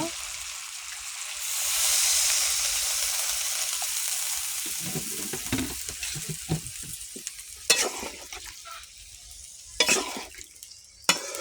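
Potatoes and Malabar spinach seeds sizzle and sauté in a pan, with a steady frying hiss at first, then scraping stirs and a few sharp clinks of the spoon against the pan.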